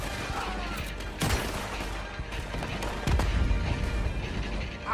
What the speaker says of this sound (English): He's shooting! We have to take him down!